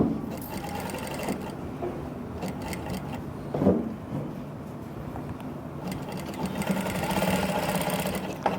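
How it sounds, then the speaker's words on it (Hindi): A sewing machine fitted with a single foot stitches a zipper onto a fish-cut skirt, running in a rapid rattling burst, pausing briefly mid-clip, then resuming a steady close stitching hum. "तो इस तरीके से सिंगल फुट की मदद से ये चैन आपको लगानी है। जहाँ तक ये कट है वहीं तक बस इस सिलाई को लगाओ।"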